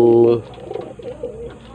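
Pigeons in a loft, opening with one loud, close, resonant coo that fades into softer, murmuring coos and shuffling over the rest.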